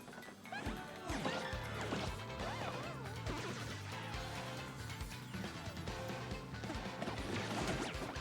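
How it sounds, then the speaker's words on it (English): Head bonk attack landing on a Goomba in Paper Mario: The Thousand-Year Door, game sound effects with thuds and crashes over dense, busy background music, loud and continuous. "Head bonk the Goomba."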